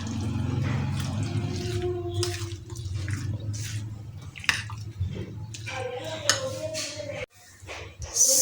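Chopped apples are folded into cream fruit chaat in a bowl, giving soft wet squishes and light clinks close by, with a voice murmuring underneath.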